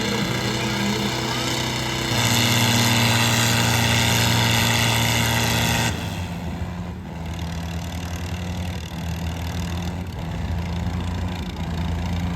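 A New Holland Fiat 640 tractor engine labors in a pulling competition with a loud, steady harmonic drone. It strains harder for a few seconds, then settles to a slightly lower roar, with faint voices underneath.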